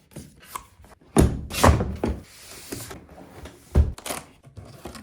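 A PlayStation 5 Slim box being opened, with soft rustling followed by several hollow cardboard thumps and sliding sounds of packaging, close and moderately loud, with no voices.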